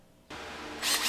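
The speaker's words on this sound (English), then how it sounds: "I'm just taking out the old aluminum rivets" A brief burst of a power drill with a 3/16 bit drilling out old aluminum rivets, starting abruptly and rising in pitch and intensity near the end.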